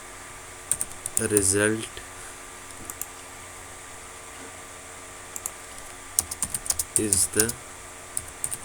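Computer keyboard typing Python code during a programming lecture, a few quick clusters of clicky keystrokes with gaps between them, heard close beside a voice speaking at intervals.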